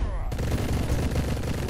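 Rapid gunfire from bullets in a video game, a dense continuous volley that starts abruptly and stays loud and steady throughout.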